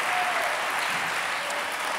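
A studio audience applauds on a Spanish television talk show, a steady, dense wash of clapping that holds at an even level from start to finish with no voices over it.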